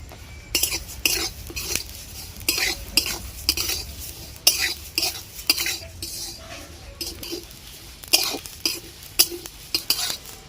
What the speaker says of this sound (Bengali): এবারে আমরা ধনে, পানমৌরি আর জিরা ভেজে নেব